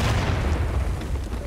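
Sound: cannon firing in the video game War of Rights

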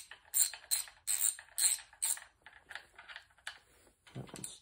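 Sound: socket ratchet tightening bolts on Mopar 440 engine cap

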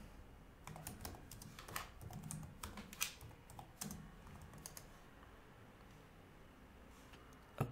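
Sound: typing a command on a computer keyboard

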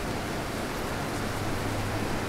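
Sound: rain in the video game Middle-earth: Shadow of Mordor

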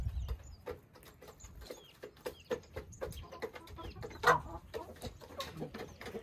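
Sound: rooster clucking

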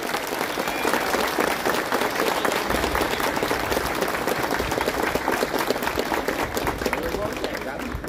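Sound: procession crowd applauding

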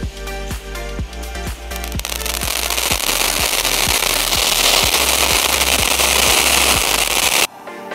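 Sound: Sivakasi firecrackers bursting

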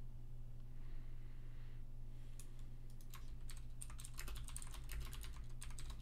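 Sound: typing on a computer keyboard

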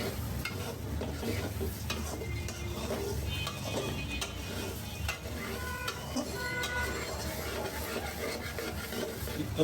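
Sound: frying and stirring eggplant pieces

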